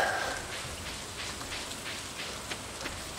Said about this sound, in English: Warm rain is a pleasant way to get clean.